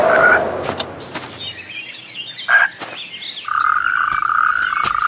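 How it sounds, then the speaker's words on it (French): Frogs and toads croak and trill in a wooded area, with repeated calls overlapping and a steady trilling chorus building toward the end, fairly close and clear, with a few bird chirps mixed in. "crapauds, grenouilles et tritons hivernent dans les sous-bois du Bois-Jean"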